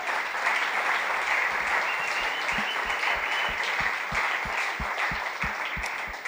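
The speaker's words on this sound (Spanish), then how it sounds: "Dele un aplauso a Dios." A church congregation applauds during a sermon, steady clapping that sounds somewhat distant and fills the room for about six seconds, with a faster run of claps near the end.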